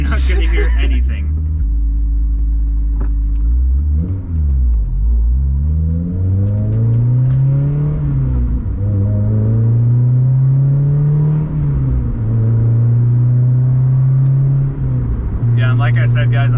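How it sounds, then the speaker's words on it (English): Honda S2000 with hardtop on a drive, heard from inside the cabin: a loud, low exhaust drone that rises and falls with the revs through several gear changes, with people talking over it. "we are in the S2000 and we're just gonna go for a little drive"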